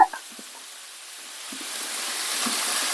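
Mutton blood frying in a pan with green chillies, a steady hissing sizzle that swells gradually louder, with a few soft knocks early on and no voices.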